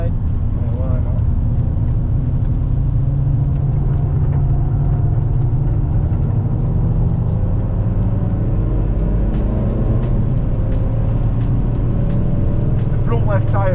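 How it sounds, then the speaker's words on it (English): Diesel Audi S5 lapping Silverstone on a track day, its engine droning steadily close by while the front left tyre strains through a corner; people talk over the constant loud rumble. "The front left tyre feels like it's being absolutely torn. I can hear it."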